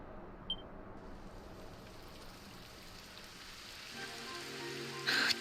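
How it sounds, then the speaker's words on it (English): Soft, steady rain patters in a quiet scene from the video game Dragon Quest XI, with a brief electronic blip early on and a brighter burst of sound near the end. "It would have to go and start raining, wouldn't it?"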